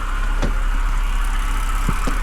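Flood-damaged BMW E60 528xi idling steadily with a low, even engine drone and a few faint ticks and knocks, close by with no talking.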